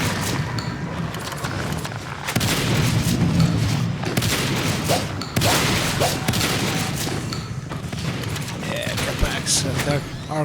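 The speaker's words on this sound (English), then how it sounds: "Some nice shooting on those guns." Gunfire in a match of the game Natural Selection 2, with bursts of shots and booms scattered through, under steady commentator talk.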